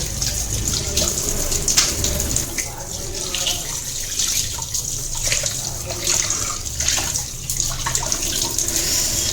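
Fish is washed under a running tap before being fried, with steady gushing water and splashing as the pieces are handled close by.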